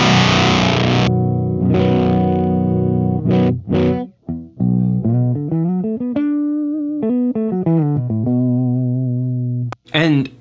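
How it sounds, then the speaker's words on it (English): Dark electric guitar through a Hypercoven octave fuzz pedal, played on the neck pickup with the tone rolled down: thick, distorted sustained notes and bends that ring loud and close, broken by a few short gaps and ending on a sharp burst. "make a more pronounced octave when using pedals like the Hypercoven is actually flip to the neck pickup on my guitar"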